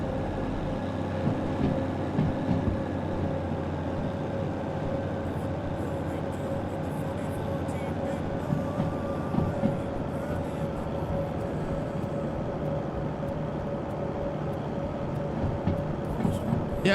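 A DE4 diesel locomotive driven in the train game Derail Valley: a steady, continuous engine drone and rumble with a constant hum, holding even throughout, with faint clicks and rattles over the top.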